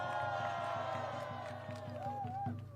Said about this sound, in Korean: 또 박수로 맞이해 주십시오.